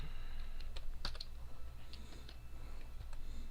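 Command being typed on a computer keyboard, a quiet run of irregular clicks and taps against a low hum.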